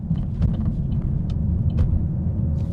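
Vauxhall Corsa VXR with a 1.6 litre engine pulling round and out of a roundabout, its steady low engine drone heard from inside the car with faint road rumble and no speech.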